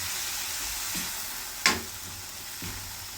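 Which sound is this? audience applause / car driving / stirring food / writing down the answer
stirring food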